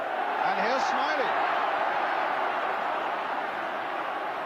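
Dense, roaring football crowd in a stadium at Brighton & Hove Albion versus Liverpool, a steady wall of cheering and chanting that holds loud throughout, with a few whistles and shouts rising above it.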